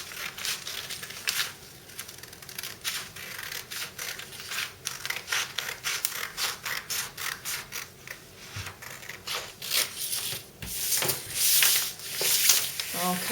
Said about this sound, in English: So now I'm going to cut out up this side seam where I've added the seam allowance on.